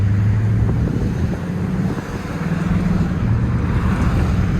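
Infiniti Q45 V8 car with a rough idle accelerating, a steady low engine drone with a slight dip midway, heard from inside the cabin with wind-like noise and no talking.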